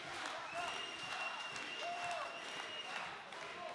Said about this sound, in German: Publikum feuert ihren Held hier an.